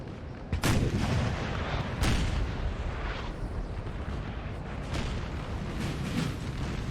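Musket volleys and booming cannon fire roll through a Napoleonic Total War battle, with sharp bursts at the start and a dense, continuous rumble of distant gunfire behind.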